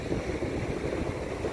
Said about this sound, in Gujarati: દરિયો ખૂબ ફાળા મારી રહ્યો છે દરિયો અત્યારે